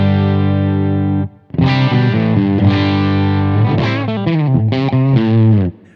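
Electric guitar played through a DSM & Humboldt Dumblifier overdrive pedal set to rock mode, giving a loud, thick distorted tone with sustained chords and a brief pause before a run of shifting chords and single notes, no talking.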